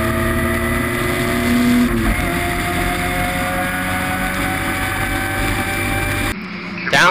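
750MC Locost race cars at Brands Hatch running down the Brabham Straight, a loud sustained engine drone with a rising and falling pitch close by, cutting off abruptly near the end.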